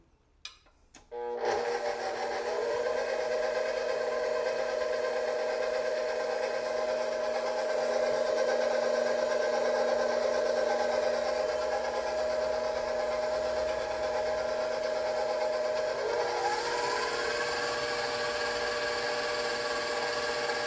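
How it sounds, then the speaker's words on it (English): A stand mixer beating apple oatmeal cookie dough, its beater not reaching the bottom of the bowl, starts with a few clicks and then runs as a steady, close, continuous motor whir, with a slight shift in pitch near the end. "think I need to reset the mixer. It seems to not be reaching all the way down in the bowl"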